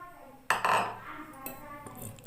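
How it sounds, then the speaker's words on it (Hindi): A spoon mixes banana cake batter in a bowl: a sharp knock against the bowl, then scraping and clinking strokes that fade, close up and without talk. "और इसको अच्छे से हम मिलाएंगे।"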